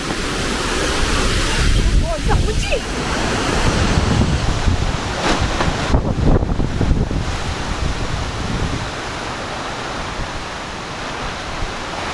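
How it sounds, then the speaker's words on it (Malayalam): Strong windstorm gusts roar steadily across the microphone at a house in Mundakayam, Kerala, in a dense, buffeting rush that lasts throughout, with faint voices underneath. "ഒരു രക്ഷയില്ലാത്ത കാറ്റ്"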